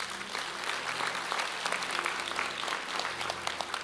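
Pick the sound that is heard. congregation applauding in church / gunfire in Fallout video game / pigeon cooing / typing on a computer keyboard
congregation applauding in church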